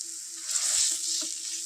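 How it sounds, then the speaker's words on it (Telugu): Onion and green chilli fry in a pan with ginger-garlic paste and turmeric, giving a steady, close, even sizzle that hisses throughout with no voices. "ఆనియన్ మిర్చి ఒక 5 minutes ఫ్రై చేసుకుందాం."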